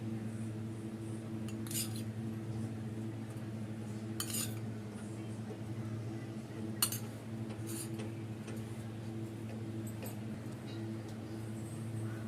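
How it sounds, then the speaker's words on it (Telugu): A metal spoon clinks against a cooking pot a few times as ghee is added for carrot payasam. The taps are quiet and scattered over a steady low kitchen hum. "ఇప్పుడు దీంట్లో ఒక 3 స్పూన్లు నెయ్యి వేసుకుందాం"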